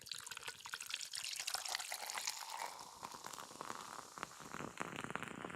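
A frothy drink pours from a freshly cracked can into a glass, giving a steady close fizzing and splashing hiss that runs throughout without a break.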